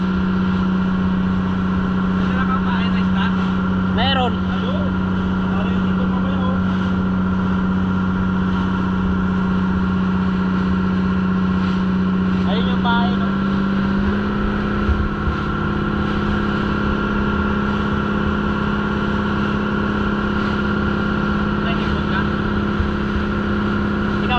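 A fishing boat's engine runs at speed as a steady, loud drone that continues throughout, with a strong low hum that shifts midway; a faint voice occasionally sounds over it.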